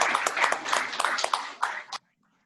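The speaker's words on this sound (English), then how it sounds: "Special round of applause goes from Muhammad Bashir and Dr. Rekha Reddy for managing the large fellowship" Clapping on a Zoom call for a gastroenterology fellowship graduation, a few people applauding in quick uneven bursts close to the microphone before the sound cuts off abruptly.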